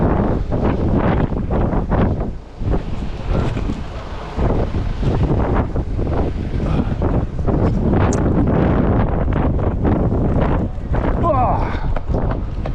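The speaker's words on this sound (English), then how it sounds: "it is windy up here though, isn't it?" Gusty wind on high ground in Ireland buffets the microphone, rumbling and rushing loudly with a brief lull partway through, while a person talks over it.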